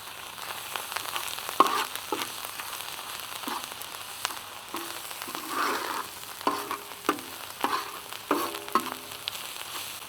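Onions with ginger garlic paste frying in a pan for a mixed tawa vegetable dish, a steady soft sizzle with scattered crackles and a few louder stirring scrapes, close and fairly quiet with no talk.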